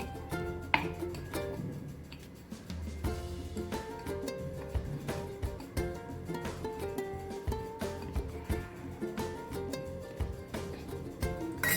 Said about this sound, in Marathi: थोडे काजू बदाम घालू ग्लासच्या साह्याने असे दाबून घेऊ